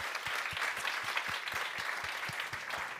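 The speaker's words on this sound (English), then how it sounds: "a big round of applause one more time for all our speakers and innovators" Audience applause for speakers and innovators at a stage event on ocean CO2 removal: steady, dense clapping from a room full of people that holds at an even level from start to finish, with no voices over it.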